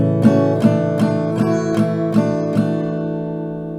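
An acoustic guitar plays the G section of a song as a run of seven evenly spaced plucked notes over sustained ringing strings, close and clear, with the last note left to fade out.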